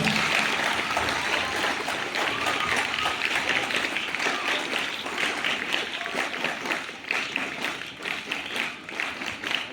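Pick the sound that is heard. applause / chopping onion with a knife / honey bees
applause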